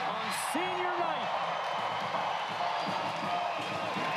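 A sellout crowd at a Hawai'i versus UCSD senior-night volleyball match cheers after an ace, a steady roar of voices and whoops filling the arena beneath a commentator talking over it.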